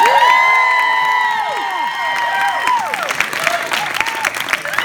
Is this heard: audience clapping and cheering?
yes